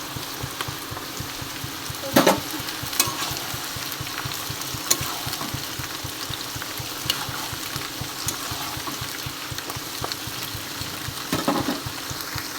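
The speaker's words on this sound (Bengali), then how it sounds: "পেঁয়াজটা ভেজে নেব।" Chopped onion frying in hot oil with capsicum for chilli chicken, a steady close sizzle that runs the whole time with soft stirring scrapes and a few louder clatters, no talking.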